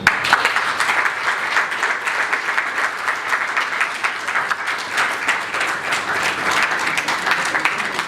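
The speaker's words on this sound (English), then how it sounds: "Can we all give Ms. Koiki a round of applause, please?" Audience applause after a speech on collaboration in Nigeria's education system, a steady dense wash of many hands clapping at even loudness throughout, with no talking.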